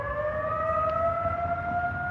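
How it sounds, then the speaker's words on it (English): A monthly outdoor civil defense warning siren wails steadily on a First Saturday test, its sustained rising tones carrying from a distance over low background rumble, with no talking. "Of course, I go on right when they do the sirens."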